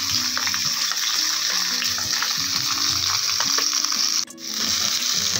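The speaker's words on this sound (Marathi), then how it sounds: "दोन ते तीन मिनटं तेलामध्ये हे टोमॅटो फ्राय करून घ्यायचे" Chopped tomatoes fry in hot oil in a pan, a steady dense sizzle with scraping stir noises throughout and one brief dip near the end.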